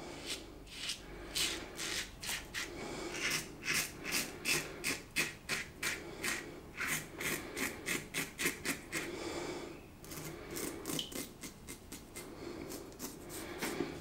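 A Yaqi Ultima adjustable safety razor shaving against the grain, with close, quiet rhythmic scraping strokes repeating in bursts and a brief pause partway through.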